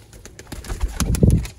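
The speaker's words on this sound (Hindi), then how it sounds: "दोस्तों कबूतर है" Low, throaty pigeon cooing rises amid soft fluttering and scuffling sounds, close by and moderately loud.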